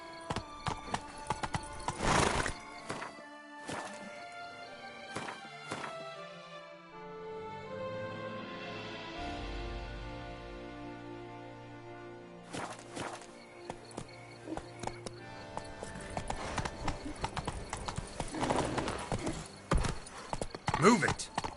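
A horse in The Witcher 3: Blood and Wine clip-clops with hooves, first in brisk bursts, then slowing into a snorting whinny and quieter stretch before the hoofbeats pick back up, close and clear with a voice speaking over parts.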